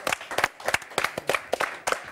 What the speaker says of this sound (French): Il était génial, on peut applaudir.